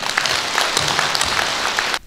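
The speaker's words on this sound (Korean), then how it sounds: "큰 박수 한번 쳐주시기 바랍니다." Loud, continuous applause from a crowd at a 2018 Boryeong civic association members' rally, close and dense, cutting off abruptly after two seconds.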